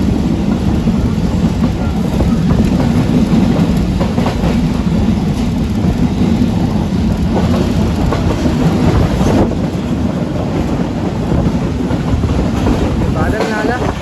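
Bolan Mail passenger train running on track near a flyover, a steady loud rumble and clatter of wheels on rails throughout, with a voice talking over it.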